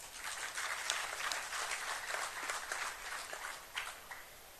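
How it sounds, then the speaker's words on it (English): Audience clapping at the EFF's first plenum, a fairly faint but continuous patter of many hands heard from a distance, with a few sharper claps near the end. "I think it deserves a round of applause"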